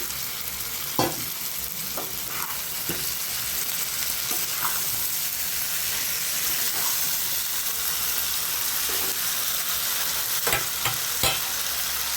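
Potatoes added to sizzling chicken meat in a biryani pot: steady loud frying sizzle throughout, with occasional stirring scrapes and clinks of a spoon against the pot, close up and without talk.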